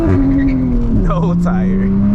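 A 500 hp 2022 Toyota Supra launches hard, its engine note surging loud and close with a rising pitch sweep and a brief tire chirp, heard from inside the car.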